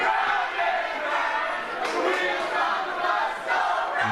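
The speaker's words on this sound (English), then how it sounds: "Only in RWA could you hear that being chanted by the crowd" Wrestling show crowd at an RWA event chanting 'The Wheels on the Bus' together, a rhythmic mass of voices swelling and dipping in a large room, loud and sustained.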